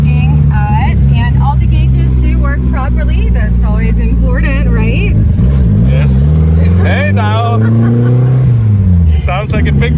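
1983 Blakely Bernardi Roadster engine drives off with a loud, close, rising and falling rev drone under excited talk.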